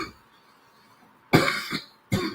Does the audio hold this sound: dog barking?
no